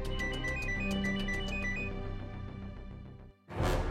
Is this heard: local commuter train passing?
no